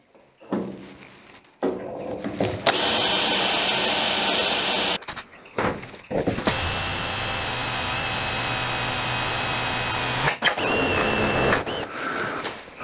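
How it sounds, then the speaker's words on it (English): Power drill with a 5mm bit boring through a metal hinge and backing bar on a custom car bonnet, whining in several long bursts separated by short pauses, close and loud. "I've drilled through everything now with a 5mm drill bit."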